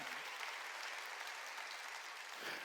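A church congregation claps during a sermon, a steady, even wash of many hands kept at a fairly low, distant level throughout.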